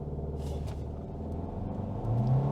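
A 2024 Hyundai Kona N-Line turbo engine accelerating in sport mode on wet roads, a low in-cabin rumble that grows louder and rises in pitch toward the end.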